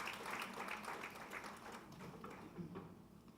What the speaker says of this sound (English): Can you all give them a big round of applause